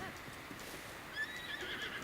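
A horse in the video game Zelda: Breath of the Wild gives a clear neigh near the middle, with faint hoof clops and game ambience around it.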